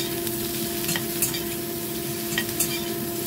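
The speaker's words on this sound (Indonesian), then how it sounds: "Cabenya tumis-tumis sebentar." Chilies stir-fry in a hot pan with oil, giving a steady, close sizzle broken by occasional light scrapes of the spatula, with no talking.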